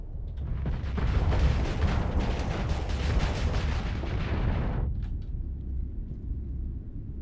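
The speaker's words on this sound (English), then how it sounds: "And then let's open fire on this." Starship weapons open fire in the space combat game Starsector, a loud continuous barrage of booming, rumbling shots for about four seconds, then a lower sustained rumble as the volley dies away.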